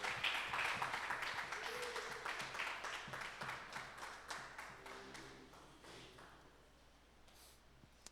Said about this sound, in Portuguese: dê um aplauso, Senhor, em nome de Jesus.